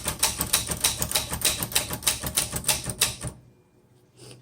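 Vintage 1960s Olivetti-Underwood 21 manual typewriter being tested, with a rapid, steady run of crisp mechanical key strikes for about three seconds, then a pause and one faint clack near the end.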